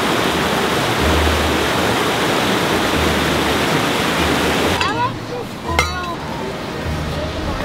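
Waterfall rushing beside a hiking trail climbing toward its base near Telluride, Colorado, a loud steady broadband roar that fills the scene, with brief voices and small clinks breaking through near the end.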